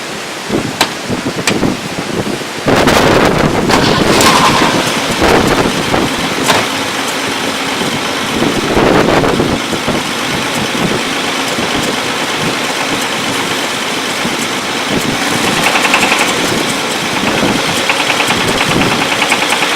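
A car engine with rod knock starts and runs close by, a loud steady idle with irregular knocking and clattering, plus wind noise on the microphone and no talk.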